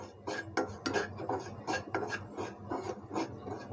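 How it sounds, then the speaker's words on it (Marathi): Semolina dry-roasting in a pan for karanji filling, stirred with a utensil that makes repeated scraping, rasping strokes against the metal at a steady rhythm, close up with no talking. "थोडासा लालसर असा हा रवा आपण भाजून घ्यायचा आहे."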